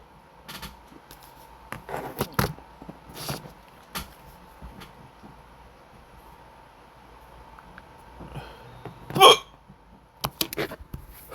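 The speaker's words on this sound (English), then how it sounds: "Got a hiccups." A person hiccups several times, each a short sharp burst spaced irregularly, with quiet pauses and faint shuffling between them.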